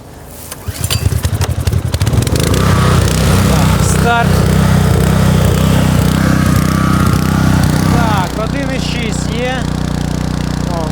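Petrol generator, a LEX LXGG3035CE or KS S3300i, cranks and catches, then runs steadily under roughly a 1.6 kW load. A loud, continuous engine drone with a slight settle in pitch near the end, and a voice speaks briefly over it.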